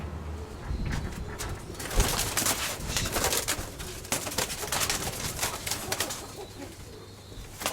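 Steel white-tailed pigeons coo softly in an aviary, low repeated calls under scattered rustling and sharp clicks, fairly quiet and close.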